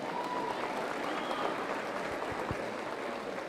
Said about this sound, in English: Let's give this Division II kids a big round of applause.